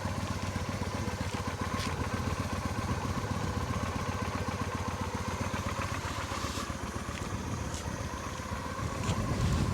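A Honda Shadow Slasher 400 motorcycle with 25,057 km idles with a quiet, steady low engine rumble, close and even throughout.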